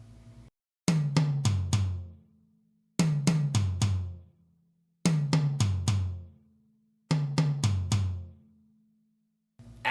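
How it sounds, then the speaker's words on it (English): Tom rolls played right-left on the second tom and then the third, a four-note grouping repeated in five bursts with short gaps between them. The strokes are close and resonant, and the drum is heard alone. "So this 4-note grouping is simply going to be right,"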